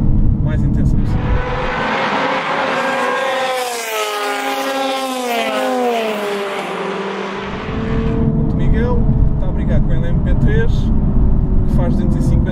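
Nissan 370Z NISMO engine driven hard, a loud sweeping note that rises and falls in pitch through gear changes, close and continuous, with someone talking over it.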